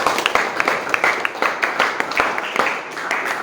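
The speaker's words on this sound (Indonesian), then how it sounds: "tepuk tangan buat Karyadi ya." A small group claps for a few seconds, uneven hand claps close by, with voices mixed in.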